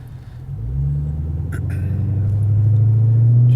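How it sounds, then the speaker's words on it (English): A Chevy SS V8 fitted with an MRT cat-back performance exhaust pulls away under normal acceleration, its deep rumble rising steadily and growing louder from inside the car, with a brief thump midway. "Accelerating normally. It definitely has exhaust presence."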